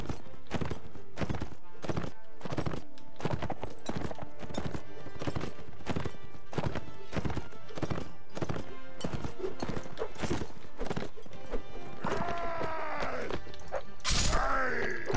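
Horses gallop with fast, rhythmic clip-clop hoofbeats in the medieval video game Mount & Blade Warband, followed near the end by loud neighs and pained whinnies over the steady pounding.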